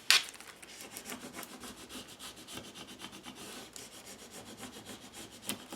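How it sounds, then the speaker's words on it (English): A plastic gift card rubs hard over packing tape on a page of an altered book, giving a close, steady scratchy rasping of repeated strokes, with no talk. "Taking my gift card and just really burnishing that down."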